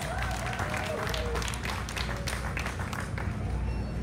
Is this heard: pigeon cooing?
no